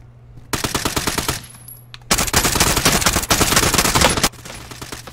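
In a Warzone match, rapid automatic gunfire rings out in loud bursts. A short volley comes first, then a longer sustained stream of shots, all close and with no talk over them.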